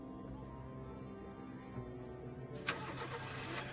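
A car engine starting in the video game Lucius: a low steady hum that turns over and catches, then settles into a louder running engine with a broad airy rush, heard fairly close.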